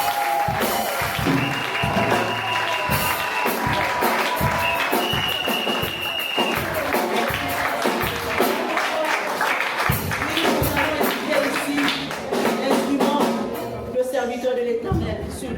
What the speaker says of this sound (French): je veux encore que vous acclamez pour